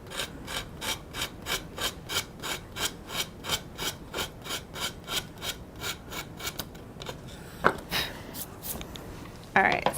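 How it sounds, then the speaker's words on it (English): Paper is scrubbed off a wooden craft sign in a fast, even run of about seventeen close, scratchy strokes, then the rhythm stops and a few scattered knocks and handling noises follow. "So let's scrub this side off."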